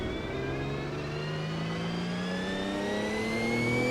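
Automobilista 2 race car engine revving freely with no drive after second gear is lost, a steady high whine climbing slowly in pitch, loud and continuous with no talk.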